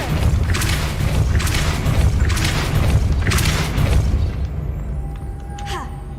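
Spell explosions from Hogwarts Legacy gameplay boom in loud repeated bursts, roughly four heavy blasts over dense game noise and music, then fading to a quieter tail with a faint tone.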